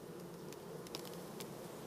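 Honey bees buzzing in an open beehive, a faint, steady hum with a few brief sharper buzzes as individual bees pass close.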